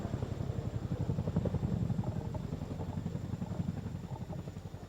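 A Chinook tandem-rotor helicopter at an airshow, its rotors producing a steady, low rhythmic chop with continuous engine drone, fairly loud and sustained with no voices.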